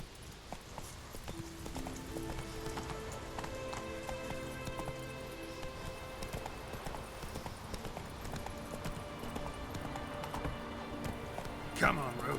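A horse gallops in The Witcher 3: Wild Hunt, its hooves beating fast and steady, close and clear over game music, with a voice heard at times.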